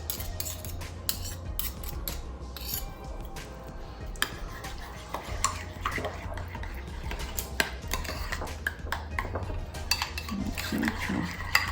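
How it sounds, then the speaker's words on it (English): Utensils clink and scrape against a bowl as Jamaican pasta salad ingredients dressed with a little honey are stirred together, a steady close-up mixing with irregular clatter over a low background hum. "just going to mix all these ingredients"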